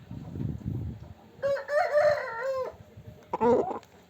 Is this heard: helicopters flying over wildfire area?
no